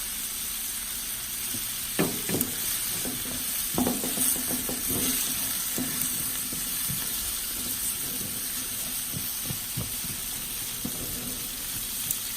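Red and green peppers with onions sizzle steadily in a pan as they cook down, with scattered stirring clanks and scrapes over the continuous hiss.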